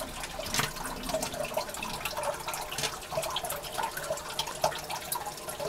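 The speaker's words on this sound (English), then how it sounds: "The filter puts the water in here, got the foam rubber pad, then it comes out that end." Water trickles and splashes out of the outlet end of a foam-pad filter into a red-eared slider turtle tank, a steady close-up flow with small irregular drips and patters throughout.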